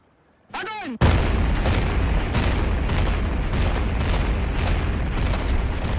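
Soviet multiple rocket launchers and massed cannons open fire at Stalingrad in 1942. A short whooshing launch comes first, then a loud, continuous barrage of booms and blasts keeps rolling without a break for several seconds.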